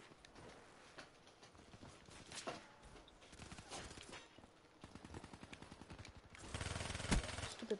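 Gunfire in the video game Black Ops 3, with rapid bursts of shots and repeated automatic fire clattering over dense game noise, growing louder and heavier toward the end.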